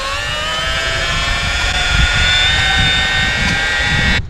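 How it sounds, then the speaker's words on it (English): A gas-powered earth auger runs and drills into farm ground, giving a loud, steady engine drone with a whining tone, close by and continuous, before it cuts off abruptly near the end. "So let's see how this auger does."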